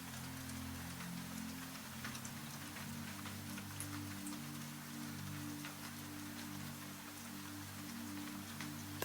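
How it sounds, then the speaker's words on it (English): Soft, steady rainfall patters on a glass window, faint and continuous with scattered tiny droplet ticks against a quiet low hum. "Rain touching a window."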